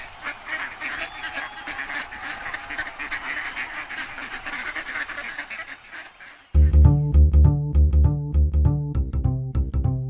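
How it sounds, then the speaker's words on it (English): Ducklings quacking, at first a busy chorus of faint high peeps over a murky background, then abruptly switching to loud, close, rhythmic quacks repeated in a quick regular pattern until the end. "Nigel, release the ducklings."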